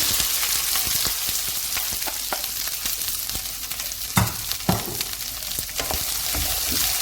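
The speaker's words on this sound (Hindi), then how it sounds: "भिंडी को हम थोड़ा सा शैलो फ्राई करेंगे।" Okra shallow-fries in hot oil over high heat, a dense continuous sizzle close up, punctuated by sharp spatula scrapes and stirring clacks.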